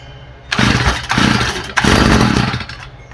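Stihl FS45 string trimmer two-stroke engine catching and running in loud, rough bursts, revving up and dropping back several times before settling, close by with no talking.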